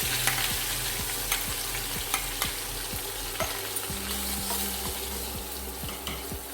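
Onions and curry leaves sauté in hot oil with dried anchovies, giving a constant bright sizzle. A spatula taps and scrapes the pan at a quick, regular beat close by.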